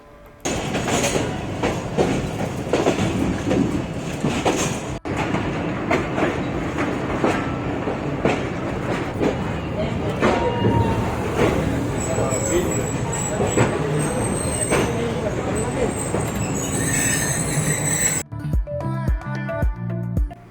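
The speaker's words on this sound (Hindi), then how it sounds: "थर्टीन अप अवाम एक्सप्रेस तकरीबन 40 मिनट ताख़िर के साथ रोडी पहुंची।" The 13 Up Awam Express pulls into Rohri railway station, a steady loud rumble of rolling carriages and clattering wheels continuing for about twenty seconds, with a faint high squeal of wheels or brakes toward the end.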